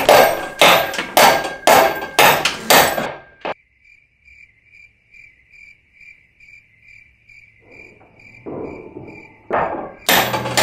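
A hammer strikes repeatedly in a quick, loud, close series as a wall beam is installed, and a steady cricket chirp follows in the quiet afterward.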